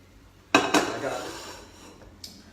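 Pasta being drained from a metal pot in a home kitchen, two sharp clanks of the pot followed by a fading splash and rush, then a lighter clink near the end.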